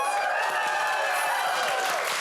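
A television talk show studio audience applauds and cheers, with bright whoops and shouts riding over continuous clapping in a short, loud burst.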